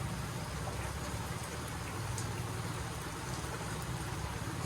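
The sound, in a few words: rain falling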